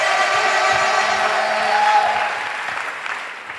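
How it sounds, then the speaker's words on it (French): Congregation at a golden jubilee gathering clapping for the Lord, a dense steady wash of applause with some cheering, holding strong then easing slightly toward the end. "Clap for the Lord."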